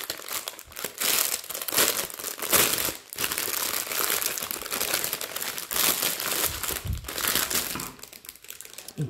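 Wrapped packaging around glass coasters is torn open and crumpled, giving a close, continuous crinkling and rustling with a few short crunches and no talk.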